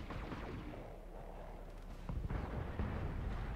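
Battle mechs fire their weapons in the Battletech game, including medium lasers. Dull booming bursts rumble under a low background, and two heavier impacts come in quick succession toward the end.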